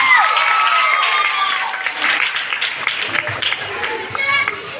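Audience applause fills a Christmas program, with loud, dense clapping that thins into scattered claps. Children's voices and a speaking voice run through it.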